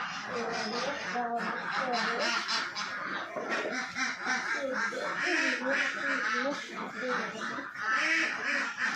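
Ducks on a duck farm quack repeatedly and overlap in a noisy, continuous chorus close by, with a person talking at times among them.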